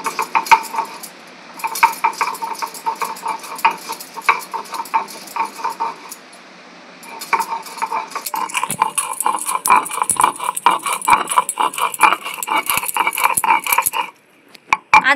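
Ginger ground into a paste by hand for a fish curry, a steady rhythmic scraping and rubbing that runs throughout with brief pauses near the start and just before the end, close and moderately loud, with no talking.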